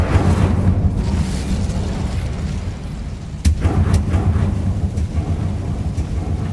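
An Incendio fire spell blast in Hogwarts Legacy: a rumbling, roaring burst under a steady low drone, with a sharp crack midway and a few smaller pops after, loud and near.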